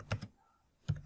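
Keystrokes on a computer keyboard while coding an Android app: a short cluster of clicks, a quiet gap, then another cluster, close and fairly soft, with no talking.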